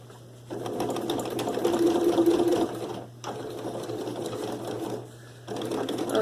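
A sewing machine stitches a simple bag in steady, loud bursts of fast mechanical whirring, pausing briefly between runs with no talking.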